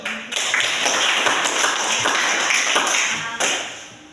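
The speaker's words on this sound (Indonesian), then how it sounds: "kita beri aplaus dulu" Applause in a classroom: a dense burst of many hands clapping together for about three seconds, fairly close and loud, then cutting off abruptly.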